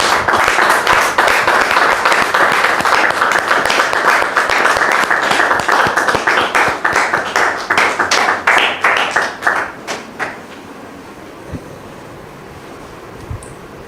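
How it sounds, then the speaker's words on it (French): An audience applauds to welcome a guest at a church gathering, loud dense clapping for about nine seconds that thins into scattered claps and then fades to quiet. "Je voudrais vous demander de recevoir ici Dame Anne, sous vos applaudissements,"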